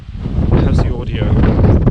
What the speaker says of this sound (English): It is particularly windy today.